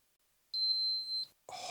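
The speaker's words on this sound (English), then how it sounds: "Holding the light gives a long beep and a double beep." An outdoor ceiling fan's remote control emits one clean, steady high-pitched electronic beep lasting under a second, close and moderately loud, followed by a brief burst of noise.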